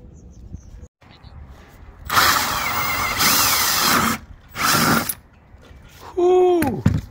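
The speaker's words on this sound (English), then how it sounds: "Let's drill this thing out." Several loud bursts of a power drill boring a hole into a roof, separated by short pauses, with a brief whining spin-down at the end.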